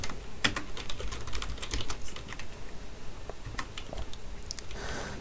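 Code being typed on a computer keyboard, with quick irregular runs of clicky keystrokes close up, short pauses between bursts, and no voices.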